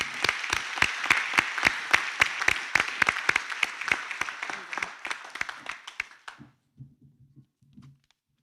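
Graduation ceremony audience applauding the graduates, a thin, rhythmic round of fairly close claps from a small group that thins out and stops, followed by a faint low murmur.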